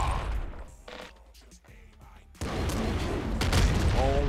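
Shotgun blasts from the video game Nuclear Throne, a quieter stretch of small clicks and shots, then a loud dense barrage of gunfire and booms, with a player's voice faintly underneath.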